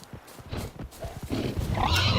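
Rough grunts and snorting squeals from wild boars in The Witcher 3 video game come in short bursts, growing louder and more continuous toward the end.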